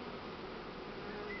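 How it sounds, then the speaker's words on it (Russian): A swarm of Buckfast honey bees settling into a hive entrance gives a dense, continuous buzzing hum, close and steady for the whole moment with no voices over it. "Ну, уже почти зашел рой."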